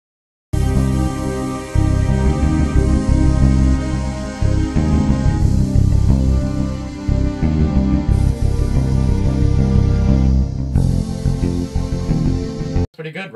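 Solo piano plays a Halo theme, a dense, loud, continuous passage of sustained chords and low bass notes that runs for about twelve seconds before stopping abruptly.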